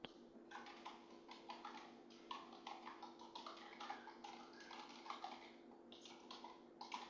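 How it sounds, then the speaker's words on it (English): Faint, rapid clicking of a computer keyboard being typed on in irregular bursts, with a steady low electrical hum underneath. "All right, I'm typing that in."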